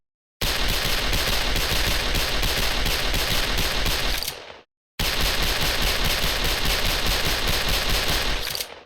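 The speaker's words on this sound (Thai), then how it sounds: "เมื่ อเรากดยิงเร็วจนเกินไป ตัวปืนนะครับจะมีการยิงแบบติดขัดในทันทีเลยนะครับ" A Double Luger pistol in the Special Force game fires in rapid, continuous volleys. One loud stream of shots runs for about four seconds, cuts off, then resumes after a short gap.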